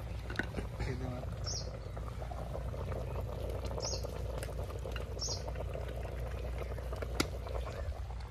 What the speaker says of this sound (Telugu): ఇక ఒక గ్లాస్ నీళ్ళు పోతే